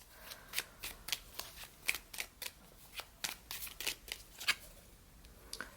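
A deck of tarot cards is shuffled by hand, giving a quick series of crisp, papery slaps and riffles at close range.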